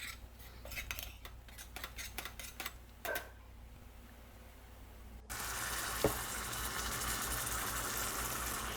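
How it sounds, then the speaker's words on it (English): Thawed frozen okra for bhindi masala goes into a pan: a run of light clinks and taps first, then a quiet pause, then a sudden steady sizzle that continues loud to the end. "Here I've just thawed my frozen okra and just putting it directly into the pan."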